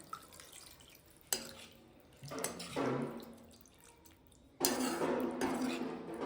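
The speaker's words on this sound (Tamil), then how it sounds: "இப்போ வந்து தண்ணி ஒரு கிளாஸ் ஊற்றிக்கிறோம்." Water poured from a glass into a pan of potato gravy seasoned with turmeric and chili powder, in a home kitchen. Several splashing, gushing bursts come close and fairly loud, with quieter gaps between.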